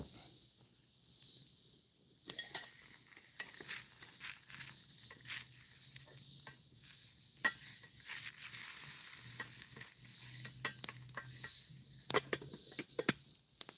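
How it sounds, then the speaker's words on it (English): Hot food stirred in a pan gives soft scraping and clicking of a utensil over a faint sizzle, irregular strokes close by, with no voices heard. "I'm gonna stir a little bit."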